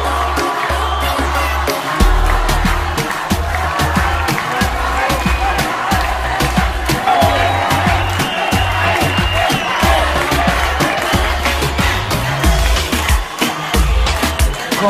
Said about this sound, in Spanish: Un aplauso para nuestra tercera y última finalista.